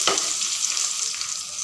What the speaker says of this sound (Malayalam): നമ്മുടെ സവാള നല്ലോണം മൂത്ത് വരുമ്പോൾ കുറച്ച് കറിവേപ്പിലയും കൂടി ഇട്ടിട്ട്